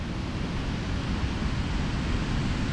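Very heavy rain pounds down on a homestead in a dense, unbroken roar, loud and steady throughout like rushing wind or surf, with no voices.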